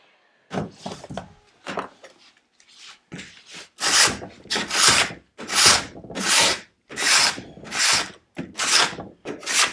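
Paint being scraped by hand off a flat surface of antique wooden furniture, a rhythmic series of loud, rasping strokes, about a dozen in quick succession and growing stronger after the first few, close up with no talking.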